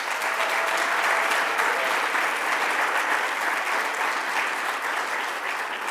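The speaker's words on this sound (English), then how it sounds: "So let's give a round of applause to our Borough President" Sustained audience applause at a public event marking the anniversary of Hurricane Sandy, dense steady clapping from a large crowd that fills the whole stretch at an even level.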